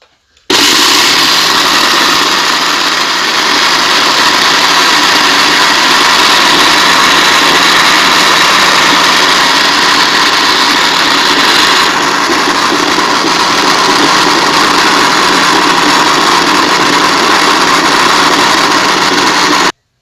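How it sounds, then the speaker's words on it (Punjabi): An electric grinder runs on melon seeds with a loud, constant high-pitched motor whine and whirr that starts abruptly and continues unbroken for about twenty seconds before cutting off. "ਹੁਣ ਆਪਾਂ ਮਗਜ਼ ਪਾ ਕੇ ਨਾ ਇਹਨਾਂ ਨੂੰ ਗ੍ਰੈਂਡ ਕਰਦੇ ਹਾਂ।"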